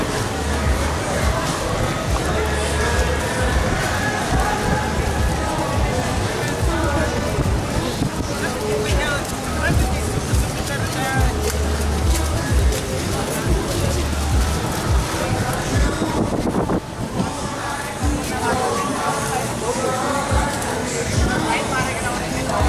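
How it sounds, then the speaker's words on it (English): Strong wind roars and buffets the microphone continuously on Calangute beach in Goa in early July, with a low rumble and faint background voices. "Very windy here."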